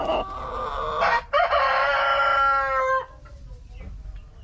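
Pet roosters in a backyard coop crow close by, one long, loud cock-a-doodle-doo stretching across several seconds, followed by quieter clucking and faint coop rustle.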